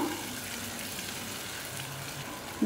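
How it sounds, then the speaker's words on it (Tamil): Continuous hissing splash of water being poured into a pan of curry, steady and close, without talk. "கொஞ்சமாக தண்ணி ஊற்றிக்கலாம்."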